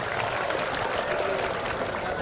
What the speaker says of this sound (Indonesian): Ya, tepuk tangan untuk kita sekalian.